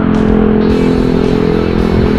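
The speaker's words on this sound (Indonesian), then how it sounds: "Ada lagi knalpotnya yang kencang suaranya." Loud motorcycle with an aftermarket racing exhaust, heard from the rider's position as a steady, close engine drone with a constant low rumble throughout, no pause and no voices over it.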